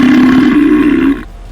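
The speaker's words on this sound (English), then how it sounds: "let out an indecorous belch that took the Twi'leks aback" One loud, close, drawn-out belch with a low, steady tone, lasting about a second before cutting off abruptly, alone with no talk.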